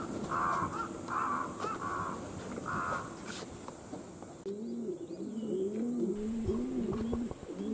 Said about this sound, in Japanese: カラスがガーカー鳴いてます